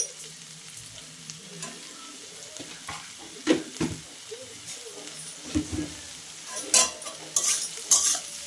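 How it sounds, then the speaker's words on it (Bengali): Shrimp and taro stolons fry in a pan with a steady sizzle, punctuated by stirring scrapes and the clink of a utensil against the pan that grow sharper and more frequent toward the end; no one speaks. "এবার আর ঢাকবো না, এবার খানিকটা এইভাবেই ভাজবো, ভেজে তারপরে নামাবো"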